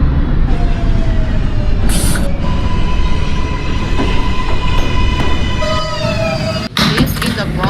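An NYC Subway R142A train in the OpenBVE simulator game rolls along with a loud, steady rumble and whining motor tones, faint wheel squeal rising near the end and a brief clunk just before it finishes.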